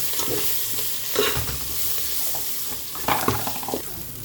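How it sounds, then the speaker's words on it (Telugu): Green chillies, coriander and curry leaves are stirred into a pan for drumstick dal, a soft continuous sizzle with a couple of louder scraping stirs and a watery wash underneath. "పచ్చిమిరపకాయలు, కొంచెం కొత్తిమీర, కరివేపాకు కలపండి."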